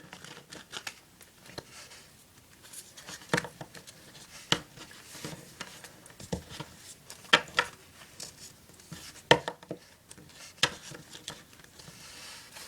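Playing cards shuffled by hand in a Spanish (overhand) shuffle, giving soft, irregular riffling and sharp slapping clicks as the packets of cards are moved, fairly close and quiet, with no voices.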